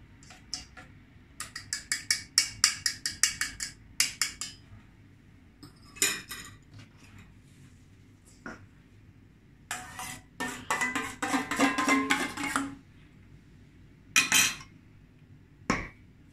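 Utensil clinking and scraping in a bowl while cozonac batter with beaten eggs is stirred, in uneven bursts of light metallic taps and scrapes, close and moderately loud, with quieter gaps between strokes.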